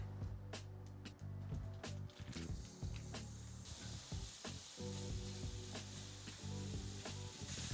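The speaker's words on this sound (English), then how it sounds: "We're going to throw in a little bit of vegetable oil and fry up our pork." Pork sausage frying in vegetable oil on a stovetop, a steady close sizzle broken by irregular clinks and scrapes of a utensil against the pan throughout, with music playing underneath.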